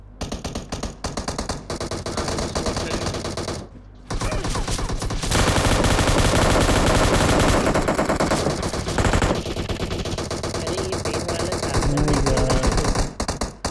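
Rapid automatic gunfire in PUBG Mobile during an ESL match, dense bursts and sustained volleys filling nearly the whole stretch with a brief lull early on, loud and continuous, with faint voices underneath.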